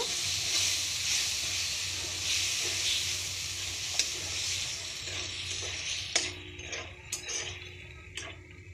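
Spice paste thinned with water and stirred in a hot frying pan: a steady close sizzle with a hiss that fades toward the end, broken by a few sharp scraping ticks of the spoon, no talking.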